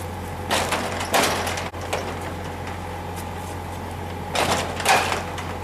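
A hotel room door lock in Kolkata is forced, producing two clusters of rattling, scraping jolts separated by a quieter stretch, over a steady low hum.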